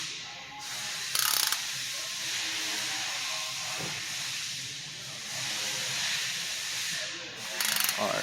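A ratchet turning over a Honda H22 engine while the cam is being degreed gives two short bursts of rapid clicking, near and loud. A steady hiss runs underneath with no talk.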